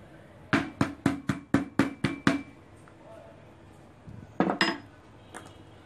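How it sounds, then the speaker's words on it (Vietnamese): A knife chops on a cutting board while crushed garlic is minced for a green mango and pork ear salad. Eight quick, evenly spaced sharp chops come first, then a pause and a few more close knocks. "Và tiếp đến là các bạn băm nhỏ ra nhé"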